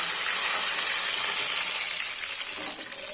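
Water pours into a pot for sambar, a steady close gushing splash that tapers slightly over a few seconds.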